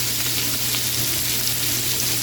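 Diced onion sizzles steadily in a pan of oil, butter and meat fat for a chicken-fried steak breakfast, a dense, even crackling hiss that stays loud and close throughout with no talking.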